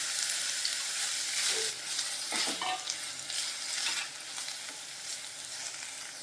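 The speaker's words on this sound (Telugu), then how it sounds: "ఇలా కడాయి పెట్టుకొని ఇప్పుడు ఈ పీల్ని ఫ్రై చేసుకుందాం." Ridge gourd peel fries in a kadai to lose its raw smell, a soft continuous sizzle with a few stirring scrapes, close and fairly quiet.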